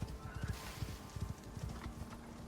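Horse hooves clip-clop in a steady, uneven walking rhythm in the survival video game ICARUS, moderately close with no talk over them.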